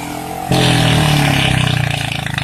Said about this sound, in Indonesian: Justru suka heran kalau lihat motor-motor di jalan suaranya kencang.